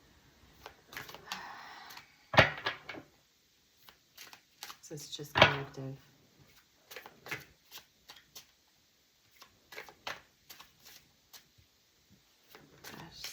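A tarot deck being shuffled, with riffling card bursts and soft shuffling rustles coming in short irregular spells. A person talks quietly between and around the shuffles, and small handling clicks are also audible.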